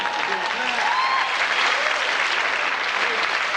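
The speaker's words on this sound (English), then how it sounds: "Let's give him a round of applause" An audience at a magic show claps steadily and continuously for a few seconds, a dense even patter of applause.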